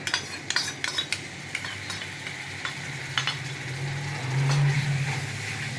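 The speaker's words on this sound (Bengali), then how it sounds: "দই দিয়ে ভালো করে আমি একটু মশলাটা কষে নেব" Spiced masala stir-fried with whisked curd for doi katla, with repeated spatula scrapes and clinks over a steady close sizzle that swells louder near the end; no one speaks.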